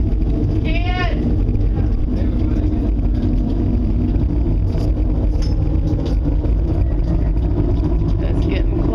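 Loud wind roaring during a storm, a steady, full-bodied rush with no letup, with faint voices and brief higher sounds now and then beneath it.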